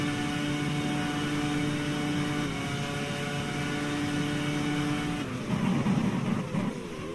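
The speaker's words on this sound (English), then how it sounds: "Accelerating through the gears again." Simulated Formula One car engine from the game GPRO 2002 revving up through the gears, a steady rising whine with shift drops, then a rougher burst near the end, loud and continuous with no talk.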